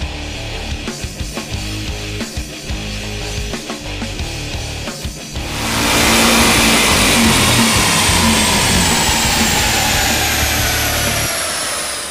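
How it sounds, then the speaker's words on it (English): A supercharged V8 in a 2013 Shelby GT500 with a 65 mm Cobra Jet throttle body idles with a lumpy beat, then revs hard into a sustained roar with a high, screaming supercharger whine riding over it. "So now you'll really be able to hear the blower scream"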